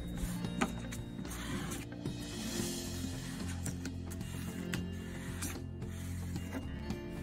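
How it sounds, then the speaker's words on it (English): A Cricut Maker with a rotary blade cuts felt flower shapes, giving off a steady, quiet whir of motors and gears with small clicks and shifting tones as the carriage moves. "Then let your rotary blade cut out all your flowers."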